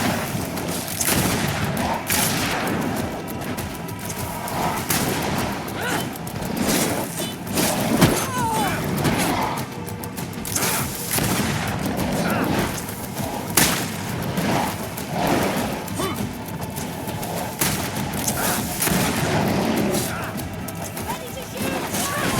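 Gunfire in the fantasy game GreedFall, a continuous battle din of shots, crashes and thuds heard under constant shouting voices.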